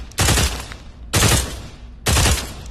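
Three bursts of M4 rifle fire from a three-round-burst version in the Pavlov VR shooter, each loud, sharp volley about a second apart with a quick rattling decay, no voices.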